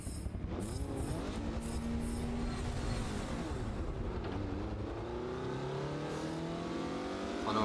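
A race car engine in Forza Motorsport 7 revs and accelerates through gears, a continuous buzzing drone with rising and falling pitch sweeps, moderately loud and without talk.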